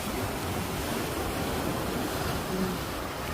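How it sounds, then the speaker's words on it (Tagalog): Strong ocean waves at high tide give a steady, dense roar of surf mixed with wind, continuous and fairly faint with no voices. "lumakas na yung alon."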